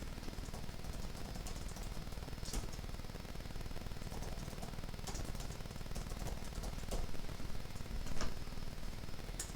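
Someone types on a keyboard, giving scattered quick clicks and a few sharper taps over a constant background hiss.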